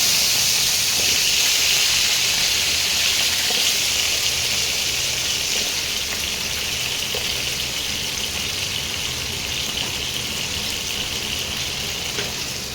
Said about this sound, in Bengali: এবারে এই তেলের মধ্যে আমি আলুগুলোও ভেজে নেব